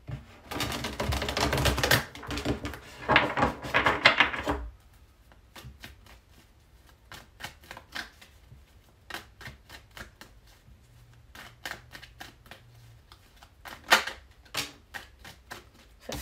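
Dense riffling of tarot cards being shuffled for about four seconds, followed by scattered soft clicks and snaps of cards handled and laid down, no talking.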